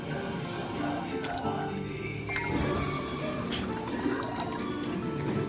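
Water is poured into mashed kolai dal in a kitchen, a continuous splashing, trickling pour close by with occasional clinks and faint background voices.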